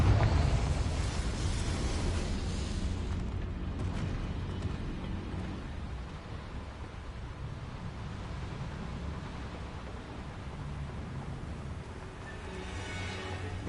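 A Confringo blasting spell from Hogwarts Legacy bursts into a loud, sustained rumbling explosion, heavy and close at the start, then settling into a long roaring wash of noise that fades slightly before a final swell.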